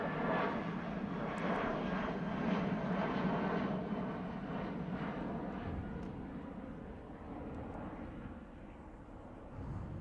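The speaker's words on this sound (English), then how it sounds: "Rolling now then is the Cathay Pacific, flight 238 to Hong Kong" A Cathay Pacific airliner, flight 238 to Hong Kong, rolls for takeoff at Heathrow, its engines a steady, loud broadband roar that holds throughout and eases slightly toward the end, with no talk over it.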